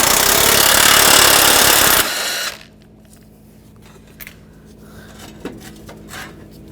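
A power tool spins out a bolt on a 2004-2008 Ford F-150 front bumper bracket with a 13mm socket, a loud two-second whir that cuts off, followed by faint clinks and handling noises.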